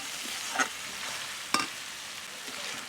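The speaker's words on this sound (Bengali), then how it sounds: "দেখুন পেঁয়াজ রসুনটা আমি আলাদা করে সুন্দর করে ভেজে নিচ্ছি।" Onion and garlic paste fries in oil in a pan for a mutton dish, a steady soft sizzle broken by a few sharp stirring scrapes.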